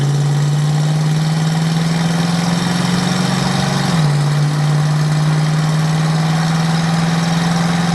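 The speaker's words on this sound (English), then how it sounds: "Not very loud, obviously, being the Ford factory exhaust." A 1970 Ford Torino with an M-code 351 V8 and factory exhaust runs steadily, a smooth, fairly quiet engine drone heard from inside the moving car, with a slight shift in pitch partway through.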